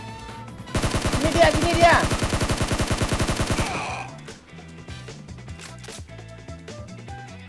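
Rapid automatic gunfire in PUBG Mobile, a fast even burst of shots lasting about three seconds, then sparser clicks and game sounds, with a voice speaking briefly over it.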